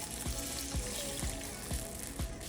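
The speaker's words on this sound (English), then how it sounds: "gonna add a splash of water," Liquid trickles into a hot pan with a continuous hiss, broken by a few soft regular knocks.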